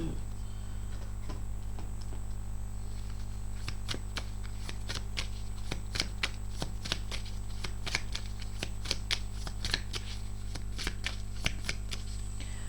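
Tarot cards being shuffled by hand, a steady run of crisp riffling flicks close by over a constant low hum, with no talking.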